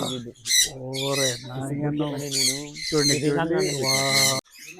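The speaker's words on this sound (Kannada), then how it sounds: "ఎన్ని పక్షులు ఉన్నాయి చూడండి ఇక్కడ" Harsh squawks come from many birds at once in a pet sanctuary, loud and close, overlapping in a dense, near-continuous racket with brief breaks.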